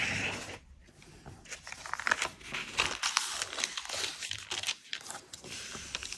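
Paper being folded and turned over while making a paper bag, with crinkling and crunching rustles that come in irregular bursts, close up and fairly quiet.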